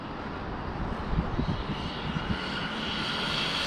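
A fast RC car driving outdoors gives a steady, loud motor whine with a broad rushing hiss that holds through the clip, with a few small surges near the middle as it runs flat out and drifts.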